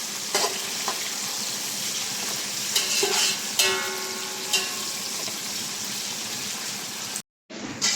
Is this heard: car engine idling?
no